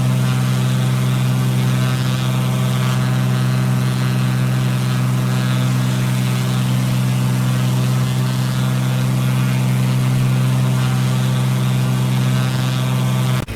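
A Cessna's piston engine and propeller in Microsoft Flight Simulator, a loud, steady droning hum holding one even pitch throughout, with no voices over it.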